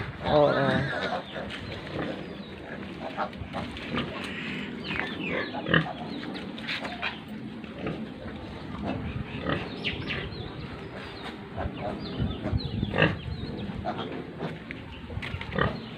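Pigs and thirteen-day-old piglets on a pig farm, with busy overlapping grunts and squeals close by, joined by occasional chicken and bird calls in the background, while a person talks throughout.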